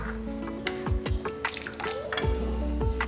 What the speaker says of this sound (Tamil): இந்த குழம்புக்கு தேவையான அளவுக்கு தண்ணி ஊற்றிக்கலாம்.